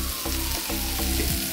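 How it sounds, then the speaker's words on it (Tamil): Tomatoes and capsicum sauté in hot oil, giving a steady, close crackling sizzle with soft stirring scrapes throughout. "இதெல்லாமே சேர்த்து எண்ணெயிலே நல்லா வதங்கணும்."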